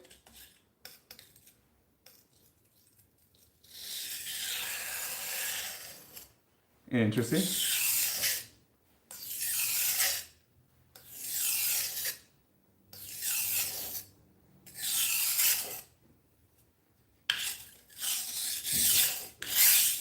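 A budget knife blade is swiped across a guided sharpener in about seven close, evenly spaced rasping strokes, and someone speaks a single word briefly.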